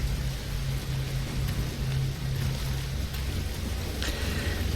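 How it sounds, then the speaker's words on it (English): Heavy rain pours steadily in the video game Nioh 2, a dense, continuous wash of drops with a low rumbling undertone and no break over several seconds. "Currently, it's raining heavily."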